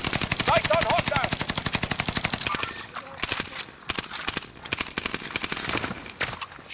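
Rapid automatic gunfire rattles in sustained bursts during a Call of Duty: Modern Warfare match, with sharp repeated shots throughout and players talking over the shooting.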